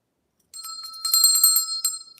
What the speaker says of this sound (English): Let me get my bell. I got my bell.